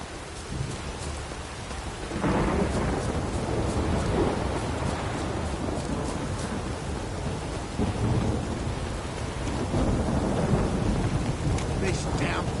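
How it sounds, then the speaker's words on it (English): Steady heavy downpour from The Witcher 3 fills the scene, with rolling thunder swelling in long rumbles and a louder crack near the end, all continuous and fairly close. "This downpour's a bastard, it is."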